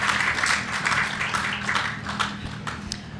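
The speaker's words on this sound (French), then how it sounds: "Oui, on peut vous applaudir." A studio audience gives a sustained round of applause, a steady crackle of many hands with a few sharper claps standing out near the end.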